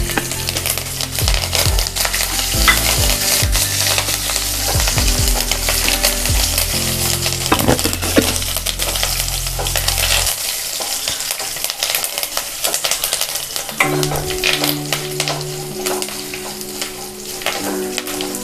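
Dried red chillies, green chillies, ginger and curry leaves frying in hot oil, a loud continuous sizzle and crackle with a spoon stirring and scraping the pan throughout.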